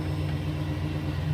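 A Chevy Silverado engine idles after a belt and tensioner replacement, giving a steady low rumble with no talk.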